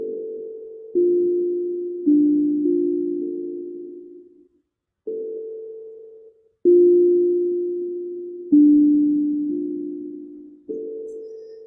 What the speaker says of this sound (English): So I invite you now to just listen to the tones